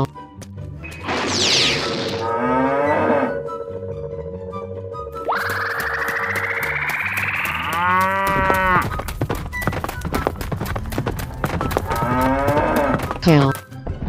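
Loud cartoon-style cow moos, several long drawn-out lowing calls one after another, mixed with crashing and thudding hits toward the end, close and alone without speech.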